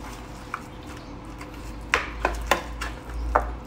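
Chicken pieces seasoned with garlic powder being stirred in a bowl, several distinct clinks and scrapes of a utensil against the dish, close and moderately loud, spaced irregularly over a quiet background.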